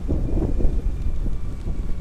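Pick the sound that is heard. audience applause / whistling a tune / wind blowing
wind blowing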